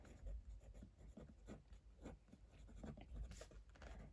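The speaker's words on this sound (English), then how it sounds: "I'll try and write that down." Pencil or pen scratching across paper at a child's learning session, a continuous run of short scraping strokes, close and fairly quiet, with no talking over it.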